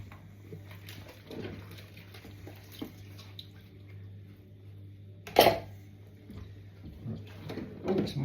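Dishes and cutlery being washed by hand in a washing bowl: faint water sloshing and dripping with a sharp metallic clatter midway and a few softer knocks near the end, close and fairly quiet over a low steady hum.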